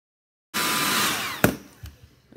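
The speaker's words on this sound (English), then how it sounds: "now I'm gonna go again and just blow dry that part" A hair dryer blow-drying a cheap wig switches on abruptly and roars loudly and steadily up close, then fades with a few knocks and handling bumps toward the end.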